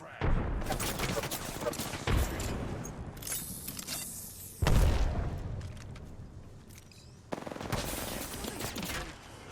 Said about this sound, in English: I am Throwing frag.